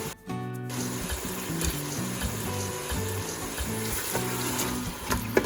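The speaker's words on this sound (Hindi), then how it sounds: "इसे 1 से 2 मिनट के लिए हम इसके साथ कुक करेंगे ताकि गोश्त थोड़ा सा फ्राई हो जाए" Mutton and quartered large tomato sizzle steadily in a pot while browning for a minute or two, a loud continuous fry with occasional stirring clinks and no talking.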